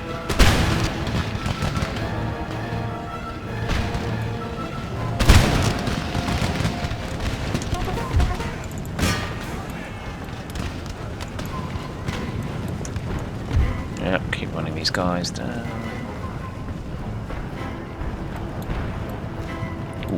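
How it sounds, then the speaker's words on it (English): Distant cannon fire in Empire: Total War, a Spain campaign battle, low booms rumbling under constant battle noise and galloping hooves, with someone talking over it. "Ooh, sound of distant gunfire."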